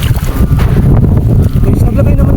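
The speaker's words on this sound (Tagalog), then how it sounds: "sobrang lakas ng hangin talaga" Strong wind from Typhoon Christine batters a farm with crops and a thatched hut roof, producing a loud, continuous low roar and heavy buffeting against the microphone.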